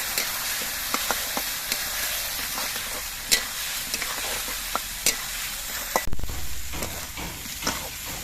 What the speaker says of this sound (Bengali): এবার সব কিছু দিয়ে কিছুক্ষণ কষিয়ে নিতে হবে